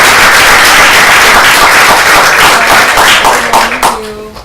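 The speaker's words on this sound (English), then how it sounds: "Let's hear a round of applause for everybody who donated" A crowd at a Students for a Democratic Society gathering at UCSB gives a loud, close round of applause, dense clapping that fades out near the end as a voice begins speaking.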